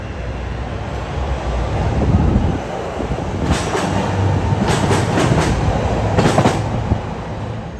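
A Chicago 'L' train rumbles past close by at Oakton-Skokie station with steady roaring noise, wind buffeting, and a few rhythmic clacks of wheels over rail joints.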